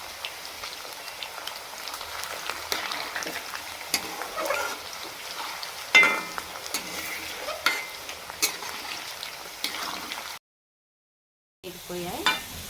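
Potato pieces fry in hot oil for Telugu-style aloo fry, a continuous crackling sizzle broken by scraping stirs of the spatula, with a brief silent gap near the end before the sizzling resumes.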